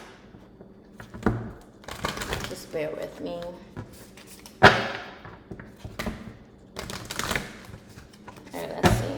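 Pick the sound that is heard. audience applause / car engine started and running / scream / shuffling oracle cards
shuffling oracle cards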